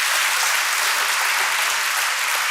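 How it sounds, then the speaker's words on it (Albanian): Dense, steady applause from a stage-show audience fills the whole stretch, loud and unbroken, with no talking over it. "unë do doja tani një duartrokitje edhe më të fortë akoma"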